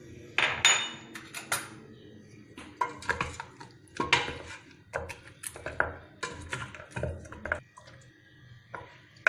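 Pork bones are mixed with star anise and other ingredients in a pot, producing irregular clanks, knocks and scraping of a utensil against metal with quiet gaps between strokes.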